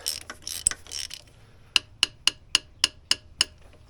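A ratchet snugs up a part on a 1998 Nissan Terrano: some scraping handling at first, then a run of about seven sharp, evenly spaced metallic clicks, close and crisp.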